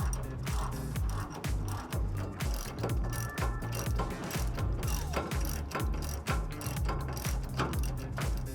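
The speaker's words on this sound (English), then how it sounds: "we're going to use a 13/16 to remove these 3 nuts." A 13/16 ratchet clicks rapidly and steadily while removing nuts from a triple bolt plate on a truck tow hitch, close and loud, in continuous bursts with short pauses, no talking.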